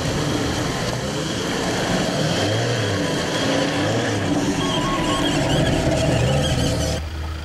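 Truck engine given a bit of throttle while descending a steep muddy drop in the Woodhill off-road area, a continuous mid-level drone with slight rises in pitch, heard from inside the cab.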